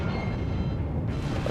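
Battleship main guns firing in World of Warships, a Japanese Amagi battleship engaging a Fuso: a loud, sustained rumbling roar of heavy naval gunfire and blasts without a break, with no voices over it.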